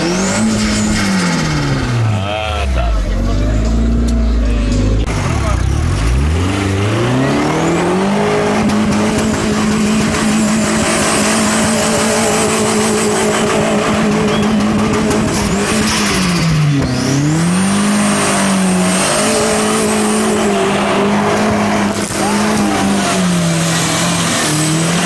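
A jeep engine revving hard and loud as it drives along a village road in the Poreče region of Macedonia, pitch rising and falling with repeated acceleration and shifts, continuous and close throughout.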